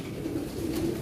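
A racing pigeon of the Batanes line gives a brief, low, steady coo, soft and close, with no other sounds.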